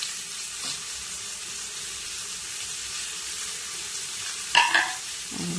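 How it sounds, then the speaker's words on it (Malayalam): Garlic and onion sautéing in coconut oil make a soft, steady sizzle with light stirring and a couple of louder clinks and scrapes near the end, heard alone without voices. "ഇപ്പോൾ ഓയിൽ ഒഴിച്ച് കൊടുക്കുന്നുണ്ട് രണ്ട് സ്പൂണ് അതിന് ശേഷം വെല്ലുള്ളി ഇട്ട് കൊടുക്കാം അതിലേക്ക് ഉള്ളിയിലിട്ടൊന്ന് നല്ലോണം വഴക്കിയെടുക്കുക"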